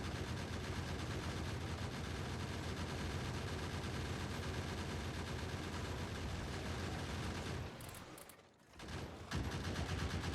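Gun turrets in Factorio with the Krastorio 2 mod fire continuously at a worm, a dense, unbroken rattle of rapid gunfire that dips briefly near the end before resuming at full intensity.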